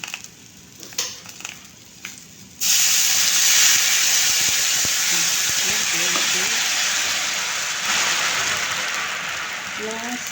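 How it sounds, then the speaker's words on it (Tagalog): Food sizzling loudly as it is sautéed in a hot pan for pork sinigang, a steady close frying hiss that starts abruptly and continues with occasional stirring clinks, after a few moments of quieter kitchen sounds. "Gisa muna natin siya para lumabas yung kanyang aroma"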